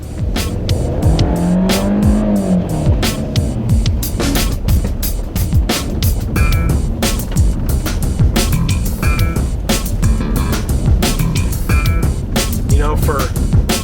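A 2013 MINI Cooper Paceman S ALL4 engine revs and roars continuously close by, with tires squealing and gravel crunching as it weaves through tight slalom turns.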